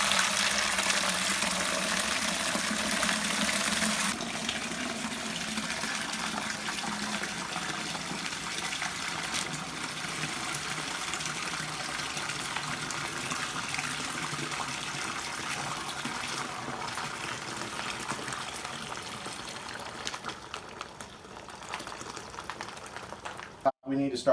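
Concentrated grape juice from a homebrew wine kit bag pours steadily into a bucket, a continuous gushing, bubbling liquid stream that runs for over twenty seconds, strongest at first and tapering before stopping.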